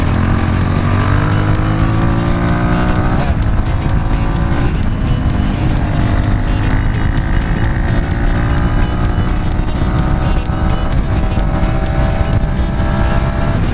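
A loud Monnier XRF 450 supermoto motorcycle engine revs hard and climbs through the gears, dropping briefly at each shift, with wind roar throughout.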